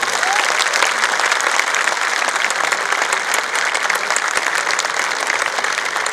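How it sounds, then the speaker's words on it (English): Sustained audience applause after a speaker is introduced at a university talk on national identity, a dense, steady clapping from a large indoor crowd holding at even loudness throughout. "Ladies and gentlemen, let us have a thunderous applause for Dr. Subramanian Swamy."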